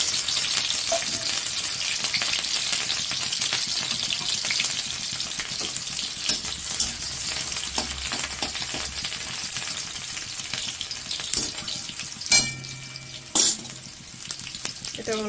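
Chopped ginger, garlic and green chilli fry in hot oil in a wok, giving a steady, close, hissing sizzle throughout with scattered clinks and scrapes of a spatula near the end.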